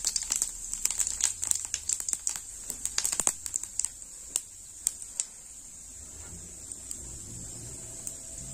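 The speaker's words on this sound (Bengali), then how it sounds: "জিরেটা একটু ভাজাবো" Cumin seeds and dried red chillies frying in about 100 grams of hot white oil: a busy crackling sizzle with sharp pops that thin out and fade after a few seconds, close and alone.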